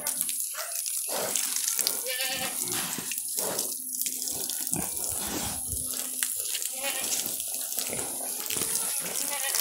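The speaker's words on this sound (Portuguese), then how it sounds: "Guilherme, vem dar banho nas porcas aqui" Water sprays from a hose to bathe sows on a farm, with a steady hiss and splashing and farm animals calling, while people talk over it.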